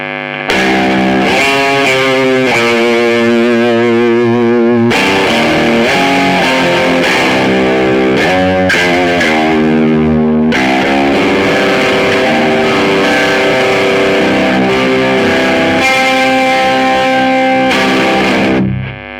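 Electric guitar played through a high-gain distortion setting in the single coil position, loud sustained distorted chords and riffs with brief pauses, alone with no talk.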